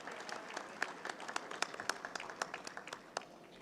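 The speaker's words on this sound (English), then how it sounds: "these people need a round of applause from you." Applause from a conference audience at an insurance event in Pakistan, a thin scatter of distinct claps rising into a steady patter, fairly distant and moderately quiet with no talk over it.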